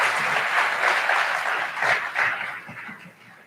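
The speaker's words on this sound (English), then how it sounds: "Please give William Perry a round of applause." An audience at a college fall convocation gives a round of applause, a dense wash of clapping that swells and then tapers off toward the end.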